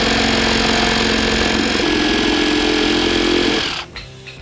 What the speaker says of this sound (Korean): 자재, 즉 나무 판재를 한번 잘라 보도록 하겠습니다